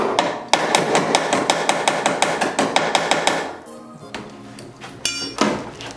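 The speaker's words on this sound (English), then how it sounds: "he said you gotta take the ratchet and pound them out sometimes" Repeated metal-on-plastic pounding with a ratchet to knock out a car taillight during an LED reverse light install, a steady run of close, sharp hammer-like strikes, then a pause and a few scattered knocks and clinks.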